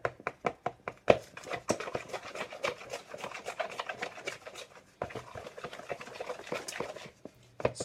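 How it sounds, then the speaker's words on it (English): Metal spoon stirring separated natural peanut butter in a jar, giving a rapid run of scraping, tapping strokes at close range, with a brief pause before the stirring resumes. "I need to stir that up really good because the oils and the peanut have broken apart."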